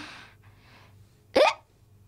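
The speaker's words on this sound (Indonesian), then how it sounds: "Oh tidak, kau cegukan." A young girl's single sharp hiccup pops out loud and close after a brief stretch of soft breathy sound, in an animated cartoon scene after eating potatoes.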